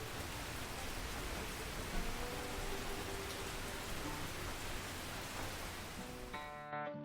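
Steady, dense rainfall hisses evenly for several seconds in an animated Cowboy Bebop scene, and a faint musical tone enters at the very end.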